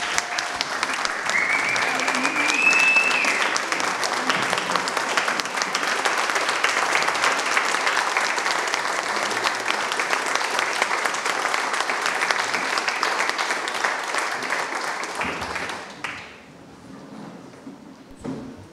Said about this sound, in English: let's all give Curt a round of applause of appreciation and thanks from all of us.